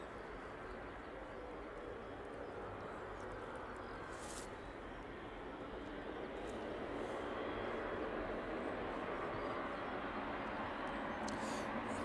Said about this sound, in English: The Aeropark 777 passing by us there.